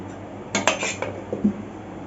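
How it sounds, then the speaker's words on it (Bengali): A lid goes onto a metal pot of dhaba-style chicken curry with one sharp clank, followed by a brief rattle and a small settling clink, all close and with no talking. "একটু ঢেকে দিচ্ছি"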